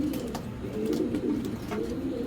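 Giribaz pigeons, including a female, coo in a low steady murmur, with soft bird calls and wing flutters mixed in. The sound runs continuously at close range at moderate loudness, with no voices.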